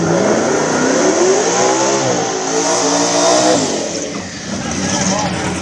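An outlaw small tire radial drag car makes its first shakedown pass, its engine revving hard and rising in pitch near the track. Some of the sound is under an announcer, and the roar fades toward the end.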